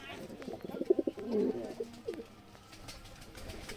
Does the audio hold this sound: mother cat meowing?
no